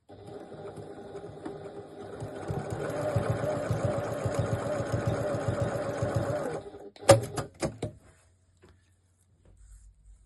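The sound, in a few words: sewing machine stitching a bag strap seam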